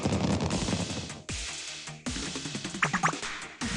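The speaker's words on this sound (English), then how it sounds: "the fireworks lighting up the night sky" Fireworks bursting during a night festival in the video game Blue Archive: a run of sharp crackling pops and bangs, with a few louder reports near the end, heard close and loud without any talk.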